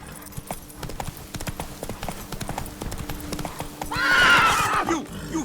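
A horse in The Witcher 3: Blood and Wine gallops with steady rhythmic hoofbeats, then lets out a loud whinny near the end, all close and clear.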